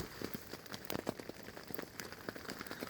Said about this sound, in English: I guess it's from the raindrops hitting the ground and then it splashes mud up.